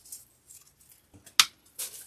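Scissors snip through an artificial floral stem for a grapevine wreath, one sharp close cut standing out among a few faint rustles of the greenery.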